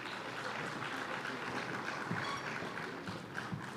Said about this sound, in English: Let's please give them another round of applause.